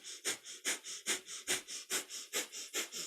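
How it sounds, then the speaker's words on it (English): Breath of fire during a kundalini yoga session: rapid, rhythmic nasal panting, about four sharp exhalations per second, close and clear with no talking. "it's the panting breath. So you're a happy puppy panting, but through the nose"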